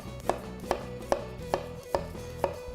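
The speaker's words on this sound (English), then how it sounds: "So when you're dicing your onion," A knife dicing an onion on a cutting board, six crisp chops spaced evenly about half a second apart, close and clear over a low background hum.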